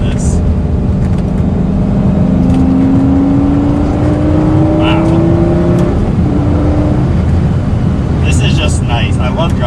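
Engine of a Lamborghini Gallardo on a test drive, a steady loud drone with a slowly rising pitch as it accelerates, continuous over road noise, with brief higher clicks near the end.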